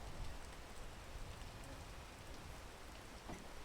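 Steady rain falls in the climbing video game PEAK, an even hiss of drops with a faint rumble beneath, continuous and moderately quiet with no talking.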